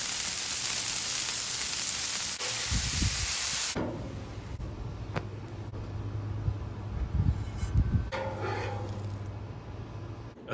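Slider burger meat cooking on a Blackstone griddle, a loud broad sizzle that drops to a softer steady hiss partway through, with a few scraping knocks.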